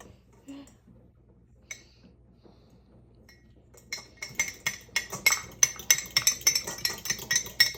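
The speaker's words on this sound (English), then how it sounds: "Now you can mix the egg." Egg beaten in a bowl with a utensil for turkey burgers, a quick run of light clinking and tapping strokes against the bowl, close and steady after a few quieter knocks.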